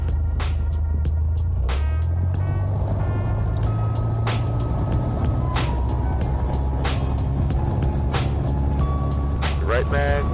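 Piper PA28-141 Warrior light-aircraft engine run-up to 2,000 RPM on the ground, a loud steady close drone that shifts in pitch, with a person talking over it and radio chatter.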